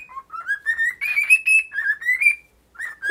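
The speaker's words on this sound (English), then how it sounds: "the next pet I'm showing is my cockatiel, Cinnamon" A pet cockatiel, almost seven years old, sings indoors in a tiny house: a close, clear run of whistled, rising and falling chirping phrases with a short pause before the song resumes.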